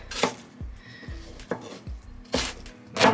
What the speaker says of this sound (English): I'm going to mince the onions